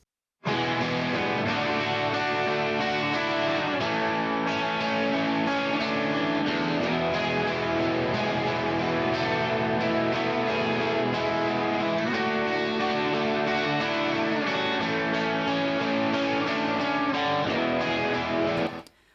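Two distorted electric guitars play lead lines together, thick and sustained, loud and steady for about eighteen seconds with no talking.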